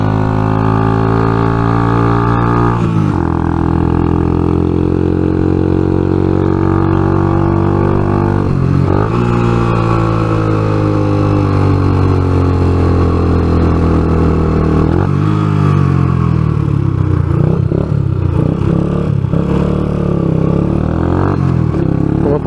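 Suzuki Intruder 125 custom motorcycle engine while riding, a steady loud drone with rising and falling pitch as the throttle eases and gears shift, with road and wind noise underneath.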